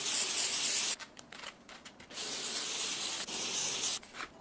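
Dry shampoo sprayed onto a synthetic wig in two long, close hissing bursts separated by a short pause filled with light rubbing and handling of the fibres.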